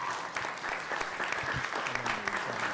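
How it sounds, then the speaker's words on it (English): Audience applause for a sustainability panel's panelists at a congressional event, a dense steady clatter of many hands held evenly for the whole stretch with no voices over it. "Can I get another round of applause for our panelists?"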